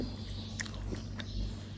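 Someone chews boiled buffalo skin dipped in sauce, producing soft, faint, close mouth sounds with small wet bites and squishy chewing, quiet and without talk.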